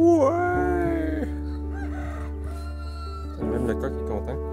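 A rooster crows loudly with a long drawn-out call near a homemade garden greenhouse, its voice rising and wavering before a second burst of clucking and crowing, with a person speaking over part of it.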